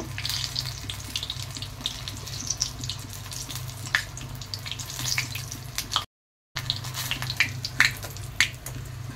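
Water lily flower fritters frying in hot oil, a continuous close crackling sizzle with scattered sharp pops, interrupted once by a brief silence.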